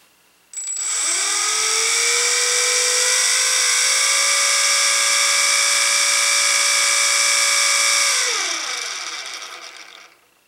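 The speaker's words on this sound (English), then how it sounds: "We are going to give this a little motor test." An E-flite UMX J-3 Cub RC plane's small electric motor spins up to a loud, steady high-pitched whine, holds for about eight seconds, then winds down and fades.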